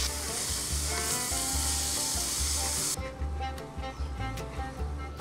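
Chopped red tomato going into a pan where white onion and garlic have been frying, a loud dense sizzle that continues steadily and drops slightly in brightness partway through.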